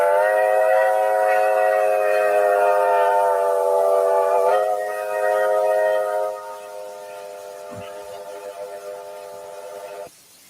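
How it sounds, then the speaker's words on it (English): A chord-like whistle holds one long, steady blast of about ten seconds, strong at first and then easing to a quieter level before an abrupt stop. "Whistle number 6 sounds like this."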